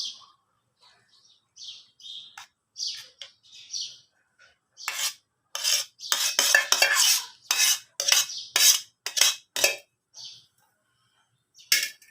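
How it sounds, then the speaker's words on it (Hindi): Eggs being spread and stirred in hot cooking oil in a pan for a desi omelet, heard as sharp utensil scrapes and clinks against the pan, sparse at first and then busier in close, clustered bursts. "कुकिंग ऑयल हमारा गर्म हो गया है, अंडे को उधर फैला देंगे।"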